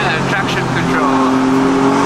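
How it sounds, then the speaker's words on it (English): Race car engine rumbles and burbles through downshifts. The roar is loud and close, with a shifting, uneven tone and a hint of tire noise, and a voice talks over it. "Got some rumbles now when we're popping down shifts."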